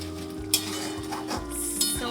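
Chicken karahi curry with yogurt and tomatoes is stirred and fried in a pan: a spoon scrapes and knocks against the metal under a steady sizzle, with a couple of sharp clinks and no speech.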